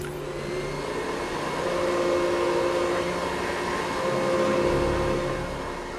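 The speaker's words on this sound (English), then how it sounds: "Turn on the vacuum cleaner." A vacuum cleaner runs in the Hitman video game, a steady whirring roar that swells and settles in level and carries through the whole stretch with no voices.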